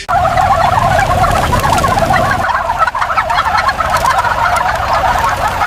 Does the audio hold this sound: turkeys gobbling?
yes